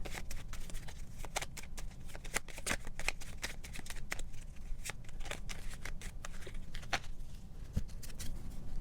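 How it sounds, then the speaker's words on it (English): Rapid crisp riffling of a deck of tarot cards being shuffled, a dense run of papery flicks and snaps close by, continuous for several seconds. "I'm going to shuffle these cards."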